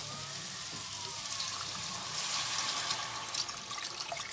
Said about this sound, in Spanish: Vamos a echar el agua